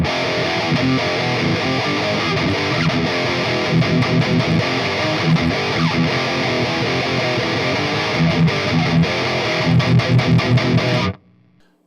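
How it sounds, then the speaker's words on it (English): A loud, distorted metal-tone electric guitar plays busy riffs through an amplifier, steady and dense, before cutting off abruptly near the end. "what you're hearing now is what you hear through the amplifier"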